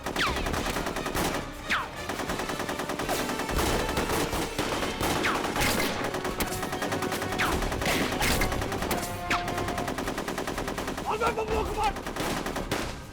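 Cover firing gunfire, continuous machine-gun bursts and scattered shots at close range, loud throughout the whole stretch with faint voices underneath.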